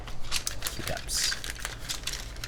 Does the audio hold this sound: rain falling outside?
no